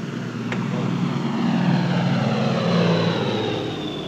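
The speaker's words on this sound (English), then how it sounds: "U.S. Air Force weather planes scour the unpredictable Caribbean." A U.S. Air Force propeller-driven weather plane drones steadily over the Caribbean, a loud sustained engine hum that swells slightly and holds for several seconds, with no speech.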